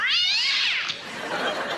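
A person imitates a cat with a single drawn-out, high wavering meow that slides down in pitch, loud and close with no other sound.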